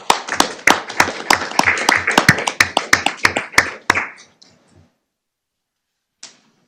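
A small county board meeting audience applauds Kelly Peterson with crisp, close, distinct handclaps for about four seconds, thinning to a few final claps before quiet and one late tap.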